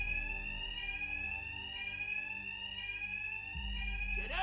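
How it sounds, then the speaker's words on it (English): In the Batman: Arkham Knight video game, an alarm rings with a continuous electronic tone that repeats and wavers, and a low rumble and clatter join it near the end. "Two-Face's thugs won't hear me over the alarm"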